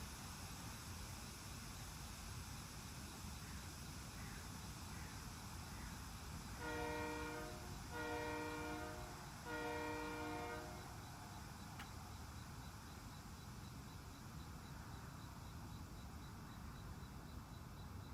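Train reversing under light throttle, heard as a faint, distant low rumble of the moving train with three short horn blasts in the middle and no talking.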